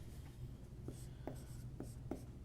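Pen or marker strokes write out an equation on a surface, a series of short scratchy squeaks and taps, faint and close over a low steady hum.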